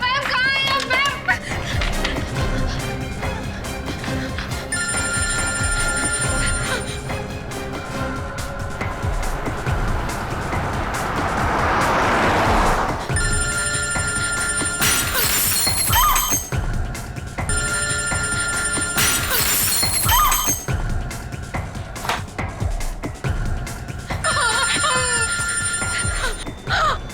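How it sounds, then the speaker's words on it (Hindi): An unanswered telephone rings in repeated electronic bursts through a tense scene in a crime drama, under background music and other noises. "सर कोई फोन ही नहीं उठा"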